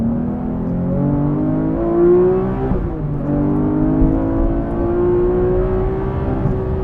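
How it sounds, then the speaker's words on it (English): A stick-shift Porsche 911R engine pulls hard at full throttle, a loud, steady rising drone heard from close by. It dips briefly at one point for a gear change, then climbs again. "we can really get more into the throttle without that boost creep blowing the tires off halfway up the power band"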